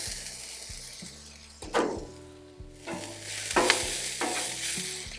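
Shallots dropped into hot oil on a Blackstone griddle, a steady loud sizzle with sharp bursts of crackle as pieces hit the surface and scrape under a spatula, close up with no talking.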